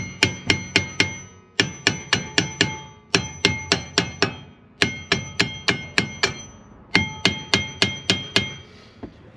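A hammer strikes the rear brake rotor of a 1999 Ford F-150 in rapid bursts of ringing metal blows, each clang fading quickly, with brief pauses between groups.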